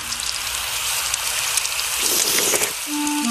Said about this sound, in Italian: Voi sedetevi a tavola mentre io cucino le frittelle.